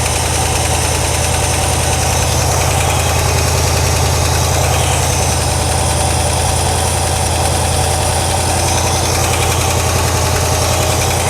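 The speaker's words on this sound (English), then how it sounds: "Idle's a little high now." A 1963 Ford Galaxie V8 idles steadily at slightly raised speed, a loud, close, continuous rumble with an even mechanical patter and no voices.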